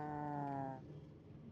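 A cow moos in a Minecraft Bedrock Edition automated milk farm, one long harmonic low bellow lasting under a second, close and clear, followed by quieter game ambience.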